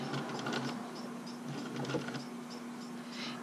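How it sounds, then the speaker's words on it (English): A sewing machine stitches a buttonhole along gimp cord, running as a steady close mechanical whir with a constant hum and rapid needle ticking throughout. "it tells the machine to stitch a straight line along my GIMP back to where it started"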